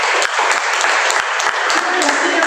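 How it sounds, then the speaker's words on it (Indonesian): A church congregation claps loudly and energetically in a dense, sustained burst of applause during an Indonesian worship service, with a few sharper individual claps standing out and no speech over it. "Berikan tepuk tangan yang paling meriah."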